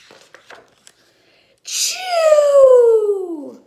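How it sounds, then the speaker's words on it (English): A single drawn-out sneeze, rising sharply then trailing into a falling, moaning tone, after a few faint clicks and rustles. "Sneezing."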